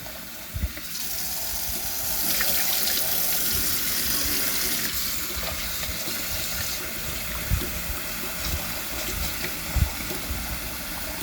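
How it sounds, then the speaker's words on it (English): Water runs steadily from a cold tap into a sink, with occasional soft knocks and splashes as potatoes are rinsed and moved around under the stream. "I like to rinse the potatoes 2 or 3 times to get the starch out"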